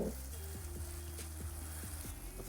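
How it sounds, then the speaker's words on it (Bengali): Onions fried slowly until reddish-brown in a pan for a potato and peas curry, giving a soft, steady sizzle with faint scraping and a low hum underneath. "একটু সময় নিয়ে পেঁয়াজটাকে আপনারা একটু লাল লাল করেই ভেজে নেবেন"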